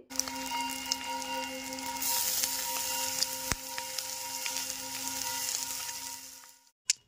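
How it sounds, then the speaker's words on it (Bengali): Chopped shrimp fry in a pan, making a steady close sizzle with a few sharp clicks from stirring, and no voices. "এই কুচনো চিংড়িগুলো ভালো করে একটু ভেজে নিচ্ছি আগে।"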